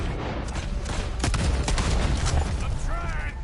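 Gunfire in Red Dead Redemption 2 during a wagon fight: a rapid scatter of loud cracking shots over a noisy battle rumble, with voices in the background.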